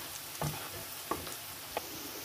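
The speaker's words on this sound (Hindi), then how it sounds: "अब मैं बैंगनों को मज़ीद 2 से 3 मिनट और फ्राई करूंगी।" Eggplant pieces frying in oil make a faint, continuous sizzle, punctuated by three soft stirring clicks from a spoon in the pan.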